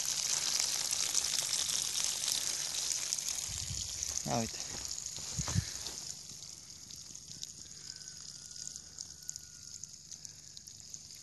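Water trickles and sprays steadily from drip irrigation nozzles at goji plants outdoors, a continuous hiss throughout, while a person speaks briefly nearby.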